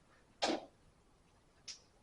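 A single sharp sneeze bursts out in a quiet precalculus classroom, followed about a second later by a brief, fainter exhale or sniff.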